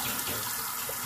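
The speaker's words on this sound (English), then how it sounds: "So let me get rinsed off." Running tap water rinsing off after a shave with a MicroTouch One razor, a steady broadband splashing flow at close range, continuous and even for the whole moment with no talking.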